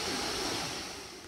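A cool mountain valley stream runs beside a forest trail, giving a steady, broadband rush of flowing water, close and even throughout with no voices.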